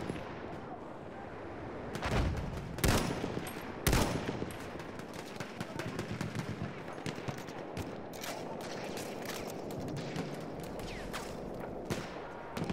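Battlefield 1 combat with gunfire: loud sharp rifle shots and bursts at irregular intervals, the heaviest cracks early on, over a continuous din of distant battle noise and explosions.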